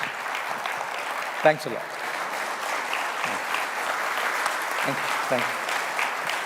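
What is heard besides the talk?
audience applause for speakers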